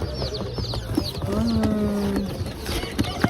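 Pigeons in a small box at a chicken and chick market give soft coos and wing shuffles among other poultry, with market bustle and a few brief voices around them.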